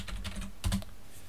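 Brief run of computer keyboard keystrokes as a password is entered for a sudo command during a Manjaro Linux setup, with a slightly heavier cluster of key hits near the middle, close and moderately loud with no talk.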